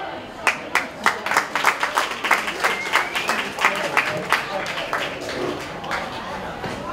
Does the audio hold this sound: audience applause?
yes